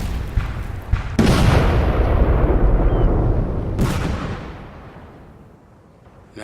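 Naval cannons in a Napoleon Total War sea battle fire broadside from a ship raking an enemy deck: a loud booming blast at the start, a second heavy boom midway, and long rumbling, crackling tails of continuous gunfire and debris between them.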